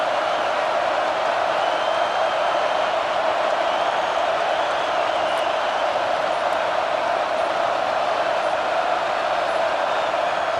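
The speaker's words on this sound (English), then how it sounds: "with this place rocking, the crowd forces a false start" A packed Georgia football stadium roars as a continuous, loud wall of crowd noise on a third down, a dense sustained din with no pauses or spoken words.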